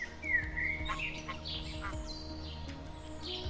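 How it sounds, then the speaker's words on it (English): Common gulls call at dawn over a Highland loch near Glenfinnan, Scotland, with several high, mewing cries and chirps scattered across the moment against steady low background noise, fairly clear and close with no talk. "We've got the common gulls."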